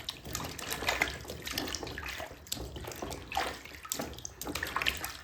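Potatoes being washed by hand in water, about three kilos of new potatoes for homemade chips, giving steady close splashing and sloshing with small splashy bursts throughout, no talking.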